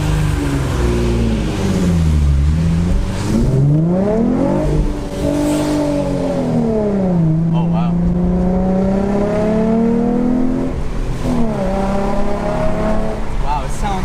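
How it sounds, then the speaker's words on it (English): Infiniti G35 car engine with a new motor revving and accelerating, loud and close, its pitch sweeping up and down through several rising pulls, with excited voices talking over it. "Wow, it sounds amazing, dude. This car sounds good."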